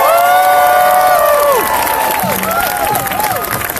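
A large outdoor crowd at the Buffalo March for Science cheers and applauds loudly, with high whoops and shouts rising over sustained clapping.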